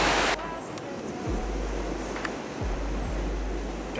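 Sea waves surge and splash along the Mallorca shore, a broad hissing wash partly buried by heavy low wind rumble buffeting the microphone.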